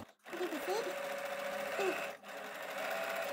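A domestic sewing machine runs a steady straight stitch across layered fabric for a protective face mask, humming continuously at close range with a brief pause near the end, and someone speaks over it.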